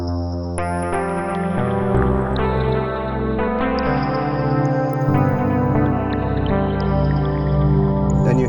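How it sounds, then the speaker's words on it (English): Logarithmic and exponential sawtooth waves play from the Zebralette 3 software synth as bright, buzzy, harmonic-rich sustained tones. The notes shift in pitch over a steady low drone and continue loudly without any speech. "I have all these logarithmic and exponential sawtooth waves,"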